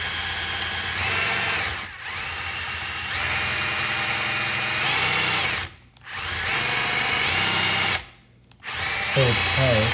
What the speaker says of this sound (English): Drill slowly